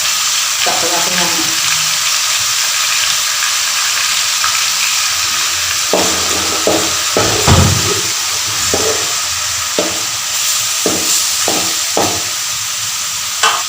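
Ginger garlic paste and chicken sizzle and fry in a hot wok over a big flame, a steady loud hiss broken by repeated scraping and stirring clatters from a spatula.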